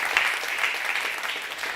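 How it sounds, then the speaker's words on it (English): A conference audience applauds talents and their mentors, a brief, moderately quiet patter of many hands clapping at an even, steady level. "one more time, round of applause for all the talents and their mentors"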